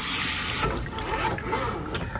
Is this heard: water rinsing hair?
yes